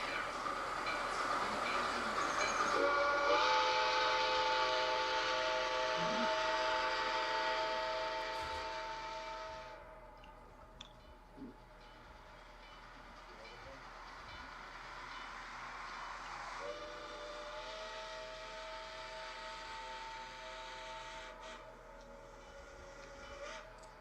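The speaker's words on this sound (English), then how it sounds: "Here's another sample of the same whistle." A Roblox recreation of the Tweetsy steam locomotive whistle gives two long, sustained harmonic blasts separated by a short pause, over a low rumbling background.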